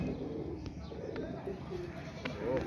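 Pigeons coo softly in a loft, with low murmuring calls under background noise and a few faint chirps.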